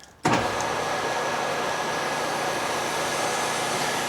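A 7.5 horsepower Endless Pools Elite pool motor switches on abruptly and runs with a loud, steady whirring hum and a faint constant whine, close by and unchanging.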